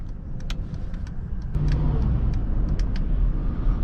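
A Mercedes-Maybach SUV driving near Stuttgart, a steady low road and engine rumble heard from inside the cabin that swells slightly as it gets under way, with faint higher ticks above.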